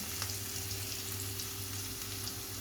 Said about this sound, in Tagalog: Haluin natin para mag combine ang mga sangkap natin yung lagay sa ating onion